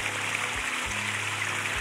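A village stream running full after spring rain, a steady broadband rush of flowing water heard close and continuous with no talk.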